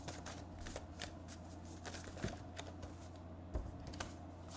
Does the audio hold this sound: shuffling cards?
yes